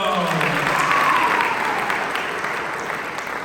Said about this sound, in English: Clap it up for JoJo